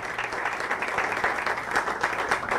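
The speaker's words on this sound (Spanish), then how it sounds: "quiero que recibamos con un fuerte aplauso a esta mujer" An audience at a congregation conference hall in Bogotá gives a warm round of applause for someone speaker, with a dense, even wash of clapping hands at moderate volume.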